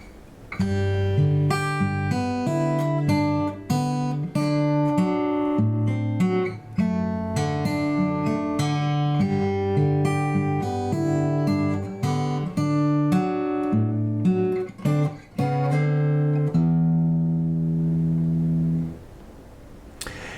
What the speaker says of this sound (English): here's how this sounds using some alternating bass and working in the melody over these chords while I'm finger picking